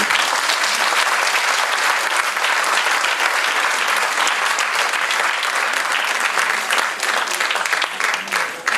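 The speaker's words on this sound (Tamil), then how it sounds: "இன்னொரு பெரிய கரகோஷம்" A theatre audience applauds after a stage play, a loud, sustained wash of many hands clapping that carries on evenly and tapers slightly toward the end.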